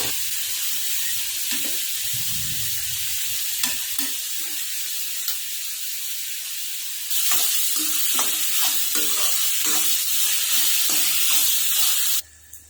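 Onions roast in a pan, a steady close sizzle and hiss that swells louder partway through, with occasional stirring scrapes and clinks, and no voices.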